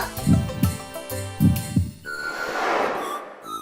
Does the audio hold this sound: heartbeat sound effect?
yes